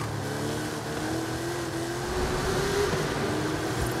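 A car in GTA Online drives fast with a steady, loud engine drone and rising revs, accompanied by faint tire noise and no voices.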